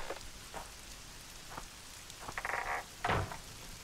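Rain falls in The Witcher 2 game world, a soft steady patter with a few louder splashy drops and brief croaking-like bursts, fairly quiet and with no talk.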